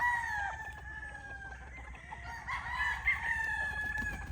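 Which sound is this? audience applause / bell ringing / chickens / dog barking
chickens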